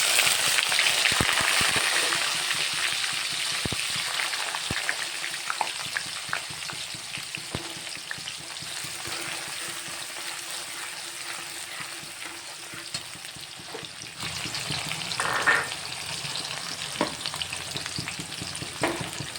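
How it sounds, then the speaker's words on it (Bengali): Chicken pieces fry in a pan for a Bengali red chicken curry, giving a steady, close sizzle with occasional scrapes of stirring that runs throughout without any talk. "ভালো করে ভেজে নেব।"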